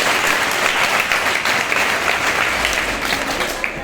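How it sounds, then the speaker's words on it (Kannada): A large audience applauds at a talk on caste reservation, with loud, dense, steady clapping throughout and no voices on top. "ಒಂದ್ಸಲ ಜೋರ ಚಪ್ಪಾಳೆ"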